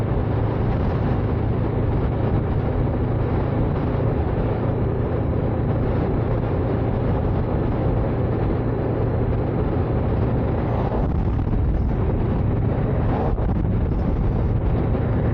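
Strong wind buffets the microphone throughout a bike ride on an open road, a loud, steady broadband roar with gusty surges and no talking.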